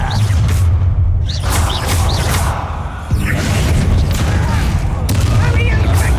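Booming spell blasts and crashing impacts from the Bombarda curse in Hogwarts Legacy, several heavy explosions amid a dense, loud battle din with a voice shouting over it.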